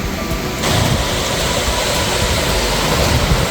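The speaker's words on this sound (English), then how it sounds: "Beautiful waterfall." A waterfall on the Höllental route up the Zugspitze gives a steady, close rushing roar of falling water that swells slightly after the first half second and then holds evenly, with no talking.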